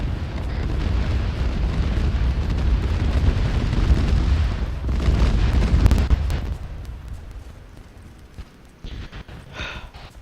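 Heavy bombs explode in a battlefield video game, rolling booms and rumbling blasts piling up loudly and close for several seconds before thinning into scattered crackles and a fainter distant burst.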